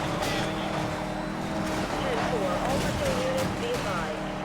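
Car engine accelerating in the racing game Need for Speed: Most Wanted (2012), a steady loud roar with rising revs and tire noise, with someone talking over it.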